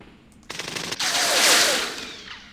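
Automatic gunfire from a half-track's mounted gun in a Middle East war strategy game, a sustained loud burst of rapid shots rolling on for about two seconds after a brief lead-in.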